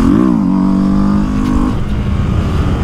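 A Honda 300F motorcycle revs hard during a wheelie session: the engine note climbs and dips at close range, holds a strong buzzing tone, then falls away into a lower rumble and road noise.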